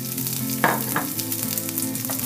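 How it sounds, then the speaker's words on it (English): Onions frying in a pan after garlic paste has been roasted, for a white sauce pasta: a steady close sizzle with a few short stirring scrapes, no voices. "Once the garlic is done, I'll add the onions."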